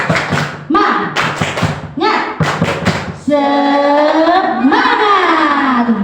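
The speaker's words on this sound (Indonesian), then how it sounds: "Tepuk semangat." Group of schoolchildren and teachers doing a rhythmic spirit clap in a classroom, sharp claps in quick bursts mixed with chanted voices, then a sustained sung or shouted cheer; loud and close.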